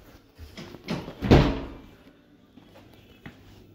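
The doors of a retail park lift open or close with a soft rumble and a short thud in the middle, close by and fairly quiet, then a few faint knocks follow.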